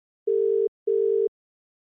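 A telephone tone sounds while a call is being placed: two clean, steady electronic beeps of equal length, separated by a short gap, heard alone on a quiet line.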